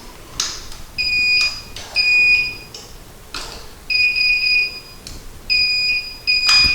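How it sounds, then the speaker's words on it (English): A Solax automatic folding portable scooter gives a series of bright electronic beeps in repeated pairs while folding, loud and close, with motor whirring and clicks between them. "you can also fold the scooter automatically with this little button right here by holding it down until"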